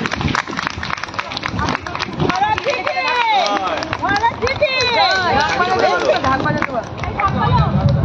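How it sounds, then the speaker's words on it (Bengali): Loud, sustained applause from a large audience at a maha darbar gathering in Asansol, cheering for the Maharaj, with dense clapping, scattered whistles and crowd noise running steadily for the whole stretch. "জোরে হাততালি দিন, হাততালিগুলো বন্ধ করবেন না।"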